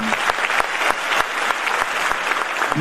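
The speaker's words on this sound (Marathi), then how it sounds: "त्या सगळ्या कलाकारांसाठी एकदा जोरदार टाळ्या झाला" An audience applauds the performing artists at a Bhima Tumha Vandana stage programme. The clapping is steady, dense and loud, with no other sound standing out above it.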